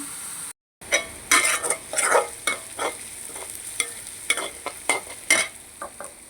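Onions with salt fry in a pan for a Bengali meat pitha, sizzling steadily while a spatula scrapes and stirs in repeated close, uneven strokes after a brief gap near the start.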